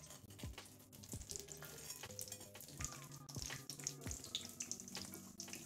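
Squid burger patty deep frying in hot oil, a steady close bubbling sizzle with intermittent sharper crackles and bursts throughout.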